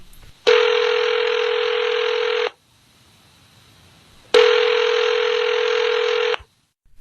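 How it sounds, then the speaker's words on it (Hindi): Two long electronic telephone ringing tones, each lasting about two seconds with a pause between, loud and clear with no talking. "तुरंत फोन मिलाया बाबूजी ने"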